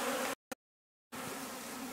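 Honey bees in a robbing mood buzz around the hives in a dense, steady swarm hum that cuts out abruptly twice, with a short burst between.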